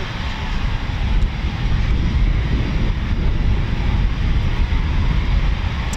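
A C-47 aircraft waits to depart at RAF Coningsby, producing a loud, continuous low piston-engine rumble with wind buffeting the microphone. The sound holds steady for several seconds with no talk over it.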